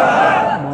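A crowd at a Bangladeshi Islamic waz sermon answers a Nara-e-Takbir call with one loud, short unison shout of many voices that tapers off quickly.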